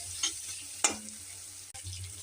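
Prawns fry in an oily spice paste for prawn curry, giving a soft, steady sizzle with a few sharp clinks and scrapes of stirring, close and fairly quiet, with no talking.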